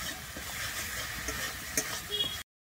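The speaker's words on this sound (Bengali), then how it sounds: "যে আমি মশলাটা আবারও ভালোভাবে একটু কষিয়ে নিচ্ছি।" Spice paste sizzling in a hot pan while being stirred and fried down for a cauliflower and potato curry, a steady close frying hiss with occasional scrapes and clinks of the spoon.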